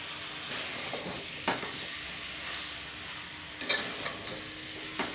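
Chicken and potato curry with masala being stirred in a pan, a soft steady sizzle with a few louder scrapes and clinks of the spoon against the pan.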